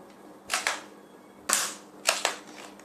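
A knockoff Firestick toy shooter fired in a distance test, giving several sharp, snappy clicks in pairs and singles, close and fairly loud against a quiet background.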